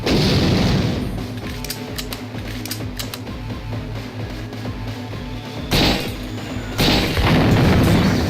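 Turret gunfire in the video game System Shock 2, a loud sustained barrage of booming shots opening the clip, easing to a lower rumbling stretch, then bursting back in heavy and loud near the end.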